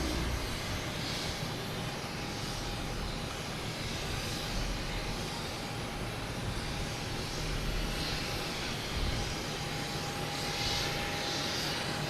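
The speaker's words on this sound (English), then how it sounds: "we have an American Airlines taking off in E175 heading to Indianapolis" An American Airlines Embraer E175 jet takes off at Boston Logan, bound for Indianapolis. Its constant roar carries a faint steady whine throughout, with no voices.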